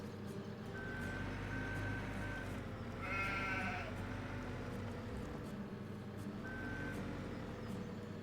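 Sheep on a farm in Farming Simulator 17 bleat in a few short calls over a steady low machine drone, with occasional beeping in the background.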